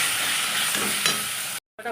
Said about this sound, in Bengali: এই মশলাটা ভালো করে ভেজে নেব